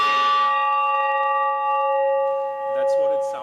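Bells of a public clock in Mumbai ring out, a clear sustained tone with long ringing overtones that slowly fade, followed by a few fainter struck tones near the end.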